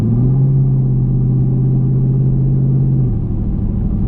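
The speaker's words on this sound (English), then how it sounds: "Me putting a little bit of foot in the throttle" A Chevrolet Camaro with an MRT H-pipe exhaust under light throttle gives a deep, steady low rumble that holds for about three seconds before the tone drops back to idle burble.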